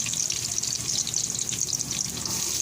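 Carrot pieces frying in a pan for pork apritada with vegetables, a continuous bright sizzle and crackle, close and steady, with no voices.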